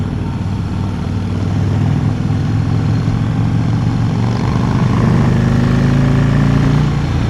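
A 2016 Harley-Davidson CVO Road Glide Ultra motorcycle rumbles steadily while being ridden, a loud, continuous low engine drone with slight throttle swells and wind noise and no voices.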